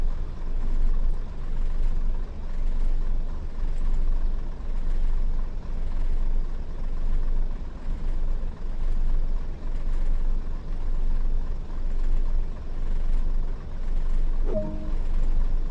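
A Class 101 diesel multiple unit in Train Sim World idling and starting to roll, with a steady low engine rumble that pulses gently throughout and a brief higher whine near the end.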